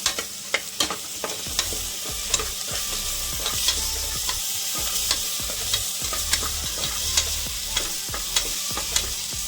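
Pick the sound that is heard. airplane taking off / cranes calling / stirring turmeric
stirring turmeric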